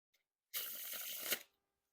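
Dan and Dave playing cards get a faro shuffle, heard as one close, smooth riffling burst of about a second that ends in a soft snap, with silence before and after.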